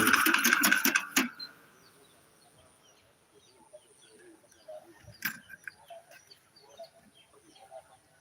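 A manually pushed multi-seeder sowing groundnut seeds in a field gives a loud burst of dense mechanical clatter for about a second, then fades to faint scattered rattles against a quiet outdoor background with birds calling.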